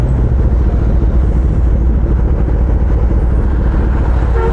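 Kawasaki ZX-10R motorcycle being ridden, a loud, close, continuous engine roar mixed with steady wind rush, holding an even level throughout without speech.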